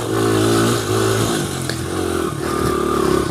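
A 2001 Honda XR100R dirt bike revs hard on an off-road track, its small engine buzzing up and down through quick throttle blips, close and loud, with a brief clatter midway and no talk.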